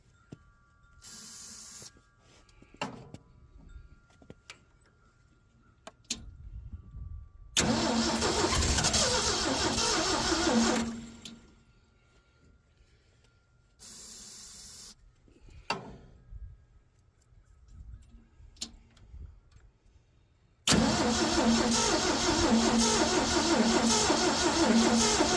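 Asplundh JEY wood chipper engine cranked in repeated attempts: short bursts of starter and engine noise separated by silences, then a loud sustained run at the end.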